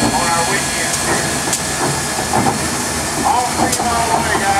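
Steam hissing from the Southern 630 steam locomotive during turning in Chattanooga, Tennessee, a steady broadband hiss close by with rail and engine rumble underneath and brief louder bursts.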